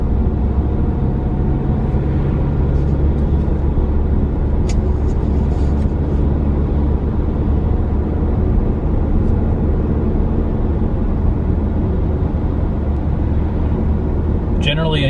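Inside a car driving along back roads, a steady loud low road and engine drone with tire hum throughout, and someone talking intermittently over it.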